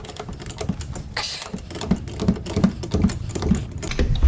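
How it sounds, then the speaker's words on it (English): A wrench spins the preload collar on a BC Racing coilover for an Infiniti Q60, making a rapid, close ratcheting clatter with evenly spaced metallic ticks. "So that's what I'm gonna do now, is spin this collar."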